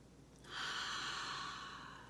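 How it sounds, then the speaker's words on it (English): One person draws in a single deep breath, a soft, airy inhale that swells after a brief pause and then holds steady and slowly fades, close and quiet with no talk. "I want you to breathe in with me."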